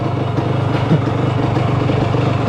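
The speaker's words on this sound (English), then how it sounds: "So the bike, I guess, was a little bit harder to start" 1970 Yamaha CT175 motorcycle engine idling after starting, a close, loud, fast-pulsing single-cylinder putter with a light mechanical clatter, no voices.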